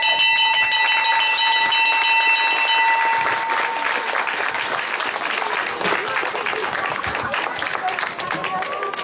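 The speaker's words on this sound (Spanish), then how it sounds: "¿Por qué no le damos otro fuerte aplauso al Señor?" A church congregation applauds during an Independence Day service: sustained crowd clapping and cheering fills the room, with bright sustained musical tones ringing over the start before fading and leaving steady applause.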